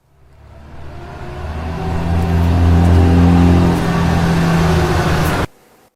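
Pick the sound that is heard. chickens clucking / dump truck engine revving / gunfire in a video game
dump truck engine revving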